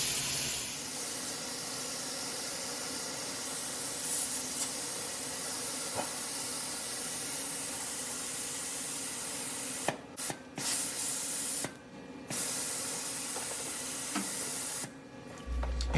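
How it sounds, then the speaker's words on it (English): Cleaner sprays steadily from both nozzles of a VTM Vantedge 3.5 automatic edgebander, a continuous close hiss with a few brief breaks near the end. "So when we have cleaner running out of both nozzles, then we can adjust the flow accordingly"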